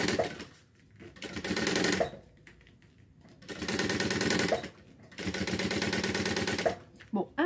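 Sewing machine stitching a fabric pencil case in three long loud bursts separated by brief pauses, with a short backstitch, close up and with no voice over it.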